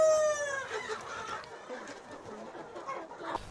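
A rooster crows loudly and close at the start, then hens cluck in a busy jumble on a chicken farm in Cao Bằng, Vietnam, where a family raises a flock of 2,000 birds.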